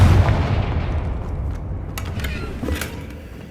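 A Confringo blasting spell goes off in the Hogwarts Legacy video game, one loud booming burst at the start that rolls into a low rumbling decay, followed by a few faint crackling hits.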